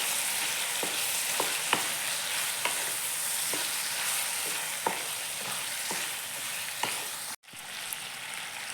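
Chicken frying in a pan with turmeric powder, stirred by spoon: a constant loud sizzle with light scraping taps of the utensil at irregular intervals, close up, no talking.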